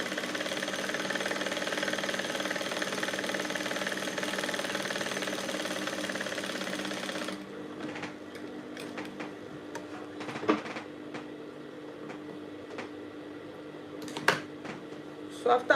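A sewing machine stitches an off-shoulder blouse, whirring steadily and close for about seven seconds before it stops. Faint clicks and handling noises follow.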